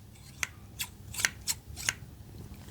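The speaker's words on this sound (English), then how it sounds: "The next trigger we're gonna do is with my kitchen scissors, and I did not realize how awesome the sounds they make were" Kitchen scissors snipping as an ASMR trigger, close and quiet: about five or six sharp, separate snips spaced irregularly against a soft low background hum, with no talking.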